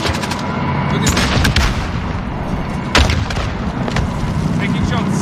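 Continuous gunfire and explosive booms fill a Call of Duty Warzone match, with dense rattling shots and a sharp louder blast near the middle, loud and close throughout.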